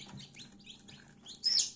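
Faint high cheeping of newly hatched chicks, several peeps close together, ending in one louder chirp.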